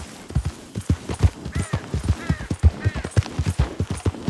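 Hooves clip-clop in a steady trotting rhythm from a horse in the video game Red Dead Redemption II, close and fairly loud, with a brief whinny-like tone and no talking.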